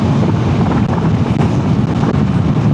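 Loud, continuous wind roars and buffets across the microphone while riding a motorcycle at an easy pace, a dense, unbroken rush with no other sound standing out.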